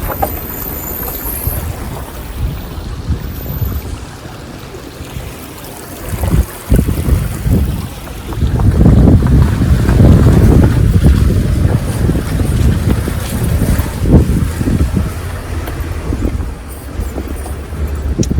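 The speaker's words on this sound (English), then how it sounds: "this is a little Cadillac car driving across this creek just fine" A small Cadillac car churns and splashes through a flowing creek, the sloshing swelling louder midway, with wind buffeting the microphone throughout.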